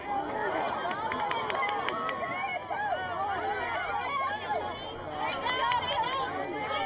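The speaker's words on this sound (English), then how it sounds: "Moms and dads and supporters of these two schools talking it up." Parents and supporters chat at a high school lacrosse game, a continuous babble of many overlapping voices with a few louder calls, close and steady.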